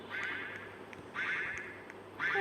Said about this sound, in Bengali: ওই যে ডাকটাও চলে এসেছে, হাঁসটাও চলে এসেছে এখানে